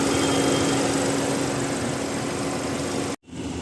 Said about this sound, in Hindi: और अगर इंजन की आवाज़ को अगर सुने तो ये आइडियल कंडीशन है इंजन का।